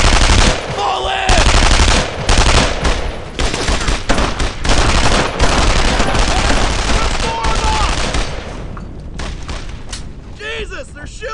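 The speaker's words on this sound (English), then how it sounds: "Jesus, they're shooting at me!" Dense machine-gun fire rattles almost nonstop in the WWII shooter game Brothers in Arms: Earned in Blood, loud and close, with heavy booms mixed in and soldiers shouting over the shooting.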